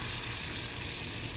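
Small balls of bread and banana fry in hot ghee with a steady, dense sizzle and bubbling, close and fairly loud, continuing without pause or talk.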